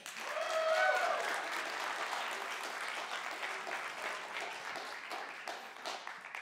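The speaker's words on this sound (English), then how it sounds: "if you like peeps, I want you to give us a round of applause" Audience applause fills a church sermon hall, a dense steady clatter of many hands that swells in the first second and then holds at a moderate level, with no talk over it.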